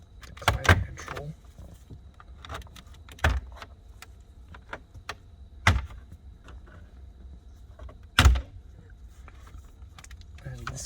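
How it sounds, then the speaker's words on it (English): Plastic clicks and snaps sound as a prying tool pops the climate control panel out of a 2014 Ford Mustang dashboard, several sharp close knocks spread between quieter handling rustle. "you use your prying tool to pry out. The climate control."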